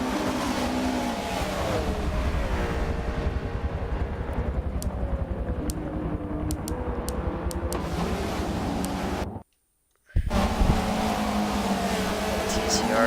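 Race cars roar past at speed at Daytona with rising and falling engine whine, loud and continuous, broken by a brief silent gap before the noise resumes.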